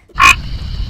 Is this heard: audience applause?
no